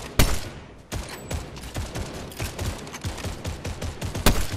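Rapid bursts of gunfire in Fortnite aimed at a rock, sharp repeated shots in quick succession with loud isolated blasts near the start and end.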